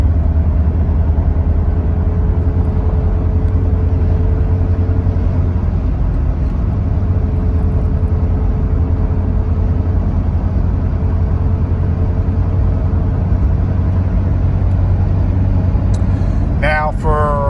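A 2000 Jeep Cherokee Classic engine hums steadily while driving above 40 mph, a constant low rumble with road noise heard from inside the cabin, alone until a brief voice at the end.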